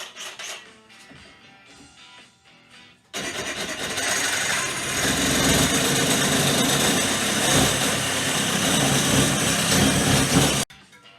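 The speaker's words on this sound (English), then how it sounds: "Let's see if I can use a Sawzall." A Sawzall reciprocating saw runs in a home garage, a loud sustained buzzing whine that starts abruptly after a few seconds of quieter background and cuts off sharply near the end.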